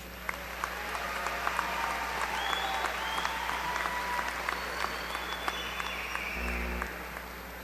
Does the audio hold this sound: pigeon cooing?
no